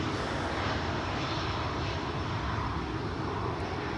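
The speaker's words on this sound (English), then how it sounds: "That's another Embraer arrival from Berlin." KLM Embraer jet on arrival from Berlin into Schiphol runway 18R, a steady broadband engine roar holding at even loudness throughout, moderately distant with no voices.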